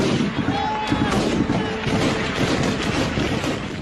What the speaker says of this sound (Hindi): गोलियों की तड़तड़ाहट से गूंज रही है अफगानिस्तान की पंजशीर घाटी।